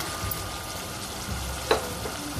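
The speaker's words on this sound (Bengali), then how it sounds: "এখন আমার মশলাটা ভাজা হয়ে গেছে, তেলটা উপরে উঠে গেছে। এখন আমি চিংড়ি মাছটা দিয়ে দিব।" Shrimp drop into hot masala frying in oil and set off a close, steady sizzle with one sharp burst as they land.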